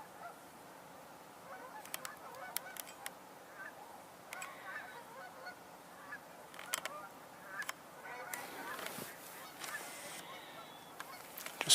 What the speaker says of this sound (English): Just heard a mallard.